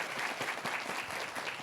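Audience applause welcoming professors at a 2024 architecture safety scholarship award ceremony, steady, dense clapping from a crowd throughout.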